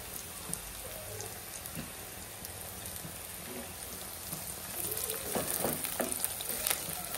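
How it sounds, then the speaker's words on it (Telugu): Curry leaves dropped into hot oil with turmeric, sizzling and spitting steadily in a home kitchen pan, the crackle growing denser and louder toward the end with scattered sharp pops. "ఇప్పుడు కరివేపాకు వేసుకుందాం."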